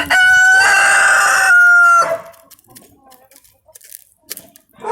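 Chickens and a rooster give a loud, close crowing call, followed by scattered softer clucks and faint farmyard noises, with no talk.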